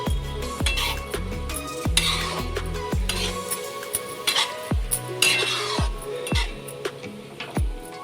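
A spoon stirring bottle gourd halwa with milk in a metal pot, with repeated clanks and scrapes against the pot in an irregular rhythm, close and fairly loud, with no talk.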